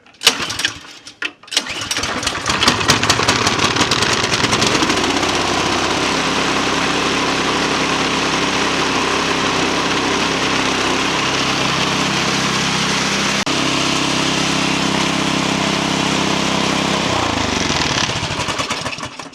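A Troy-Bilt snow blower engine sputters to life after priming, then runs loud and steady up close for most of the time, its pitch shifting partway through before it shuts down near the end.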